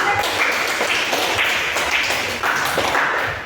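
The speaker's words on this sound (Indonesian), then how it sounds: "Terima kasih tepuk tangan." Students in a high school Catholic religious education class applaud, a continuous, fairly loud patter of many hands clapping with no talk over it.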